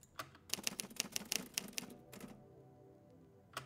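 Typewriter keys clack in a quick run of sharp, close strikes, then fall quiet before one last lone click.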